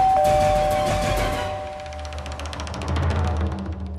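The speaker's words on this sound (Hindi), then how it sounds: "घंटी बज गई है" A doorbell rings in a home in a Hindi television drama, sounding as a sustained tonal chime over a busy background of music and ambience, fairly loud.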